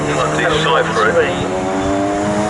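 750MC Bikesports race cars crossing the finish line at Snetterton, their engines whining loudly at high revs under a commentator's voice.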